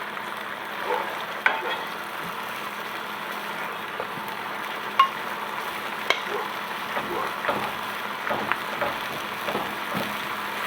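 Red braised pork sizzling in a pan as pieces are flipped, a loud steady frying hiss with a few soft clacks and scrapes from turning the meat, no speech.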